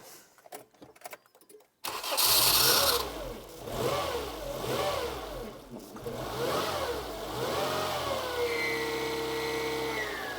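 An old Nissan car engine with a sticking throttle cranks and catches, then revs in several rising and falling surges before settling into a steady, loud idle close by.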